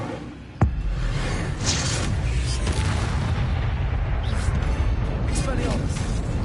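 An Incendio fire spell goes off in a Hogwarts wizarding game, a sharp impact followed by a sustained roaring whoosh of flame and rumbling effects, with a voice speaking over it.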